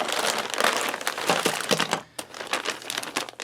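A stapled plastic bag is pulled open, giving continuous close crinkling and crackling with sharp snaps and brief pauses as the plastic is worked loose.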